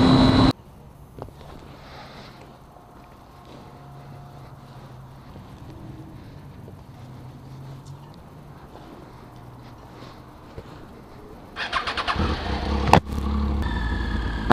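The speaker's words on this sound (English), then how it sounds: "I need to take my bike on a farewell ride." A Triumph Street Triple motorcycle is ridden, its engine a steady, muffled drone under heavy wind noise, growing louder toward the end.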